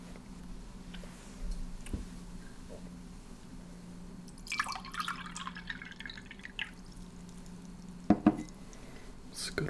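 Well water is poured into a glass in a quiet Old West saloon setting, heard close up as a brief soft splash followed by a couple of light glass clinks against a hushed background.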